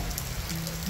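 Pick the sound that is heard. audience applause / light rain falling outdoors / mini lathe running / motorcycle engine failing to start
light rain falling outdoors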